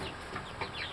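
Chickens clucking softly in a coop, a few brief faint clucks over a hissy background within about a second.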